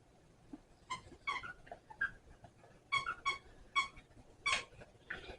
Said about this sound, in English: that's my dogs playing with each other with a toy